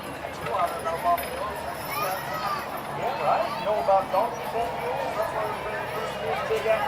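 Horses with red and blue painted hooves clip-clop along at a live outdoor event, a steady patter of hoofbeats under a constant wash of crowd noise and background chatter.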